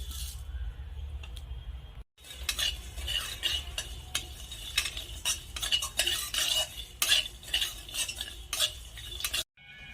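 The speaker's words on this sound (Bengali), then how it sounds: "এখন আমি ঘুগনির জন্য কিছু মশলা ভেজে নেব" Whole spices (black and green cardamom, cinnamon, cloves, coriander and cumin seeds) dry-fried in a hot pan for ghugni, with a spatula scraping and stirring in quick irregular strokes and a faint crackle underneath.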